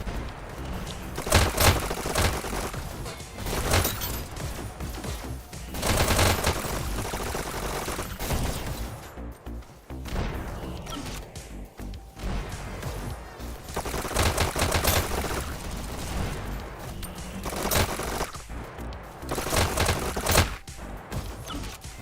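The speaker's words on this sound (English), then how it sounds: "Mini turret now on a 12-kill streak." Rapid automatic gunfire from a mini turret in a competitive VR shooter match, loud bursts repeating in dense volleys with brief lulls across the whole stretch.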